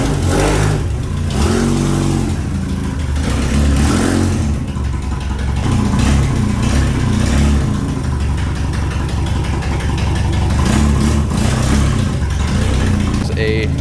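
A 1978–79 MG Midget roadster, built as an SCCA-inspired car and not driven in over a year, runs loudly and close by with a throbbing idle and a few rev swells, no words spoken over it.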